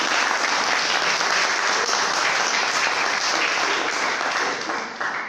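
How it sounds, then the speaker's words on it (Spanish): A church congregation at a men's congress applauds, dense steady clapping that stays loud throughout and tapers slightly at the end. "Den un aplauso al Señor entonces ahí."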